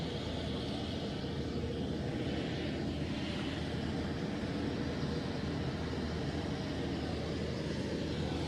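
A military aircraft's engine drones steadily and loudly throughout, standing by to airlift the remains of Namibia's late founding president along a ceremonial route.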